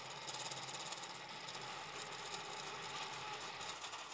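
A 3D printer fitted with a pellet extruder runs with a steady mechanical whir and rattle, its weak frame vibrating; a faint, continuous buzzing drone with no breaks or voices.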